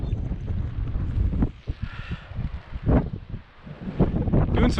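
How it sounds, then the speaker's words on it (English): Strong wind buffets the microphone in rough, surging gusts while a kite is flown, with a low roaring rumble that swells and eases repeatedly. "that was a good gust"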